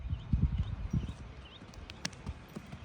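Female horse offered for sale walking with steady clip-clop hoofbeats, a quick cluster of footfalls up close at first, then lighter, irregular steps, with no talking.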